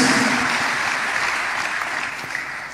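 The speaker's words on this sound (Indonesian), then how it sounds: "Beri tepuk tangan yang meriah bagi Tuhan Yesus." A church congregation applauds during a sermon, a dense, even wash of clapping from many people, sustained and fairly loud throughout.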